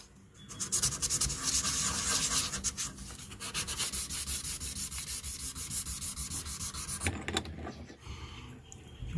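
Continuous gritty sanding rasps against a carved wooden crankbait body for a deep-diving rattling Murray cod lure, steady strokes close by, then a brief pause and a few scrapes at the end.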